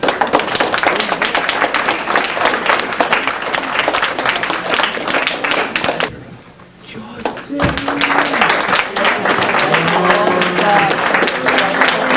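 Applause from a small gathering at a scout troop Court of Honor, a steady round of clapping close by that dies out briefly and then picks up again with people talking over it.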